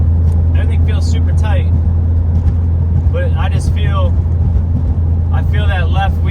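A VW Mk4 with a 1.8T engine and K04-XLB turbo runs steadily from inside the car, a constant low engine drone with whistling turbo spool and flutter rising at intervals, under some voice activity.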